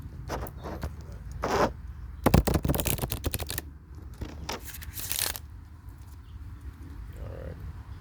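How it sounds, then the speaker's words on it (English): Crisp riffling bursts of tarot cards being shuffled, several quick flurries with pauses between, close and moderately loud, with quiet room noise underneath. "Let's just get into the card shuffle here."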